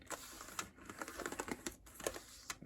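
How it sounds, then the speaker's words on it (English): Keys clattering on an IBM ThinkPad X31 laptop keyboard, a quick irregular run of close, crisp taps with small pauses, no talking. "I am going to enjoy typing on that keyboard."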